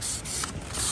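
Sandpaper on a sanding block rubs back and forth across the edge of a wing foil in two or three close, raspy strokes, alone and clear.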